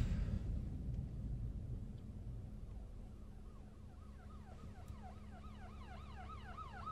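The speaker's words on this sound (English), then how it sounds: "we have an ambulance here we got to get over" An ambulance siren wails faintly at first and grows more distinct, its rising and falling yelp cycling quickly over the low steady engine rumble of a 2016 Infiniti Q50 Red Sport.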